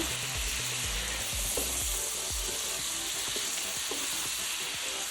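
Steady sizzling and frying in a pan as sliced chili peppers cook with butter and soy sauce, with occasional stirring scrapes and clinks, continuous and close.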